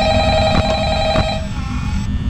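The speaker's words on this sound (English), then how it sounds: "Phone's ringing." A telephone in Five Nights at Freddy's rings in a short, electronic trill with a couple of pulsing rings, fairly loud and alone.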